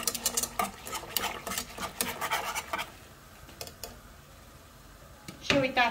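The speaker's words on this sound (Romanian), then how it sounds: "Și acum încet, încet amestecăm și fierbe aici." A spoon scrapes and clinks around a pot of boiling polenta in quick repeated strokes, then quiets to a low simmer before a final clatter; faint talking can be heard.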